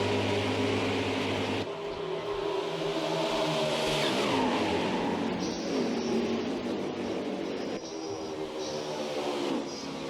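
Race car engines from the video game NASCAR Heat 5 roar continuously and loudly, with shifting pitch as cars accelerate and pass, a steady game soundtrack of engine drone throughout.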